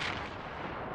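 A Battleaxe tank's main gun fires in a video game tank battle, one heavy, booming blast with a long rumbling tail that fills the whole moment, loud and close.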